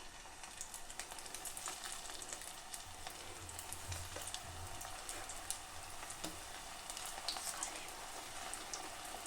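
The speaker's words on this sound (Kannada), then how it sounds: "ಇದನ್ನು ಶಾಲೋ ಫ್ರೈ ಮಾಡಬೇಕು." Aloo rolls shallow frying in hot oil give a steady, faint sizzle with a crackling hiss that continues through the whole stretch without a break.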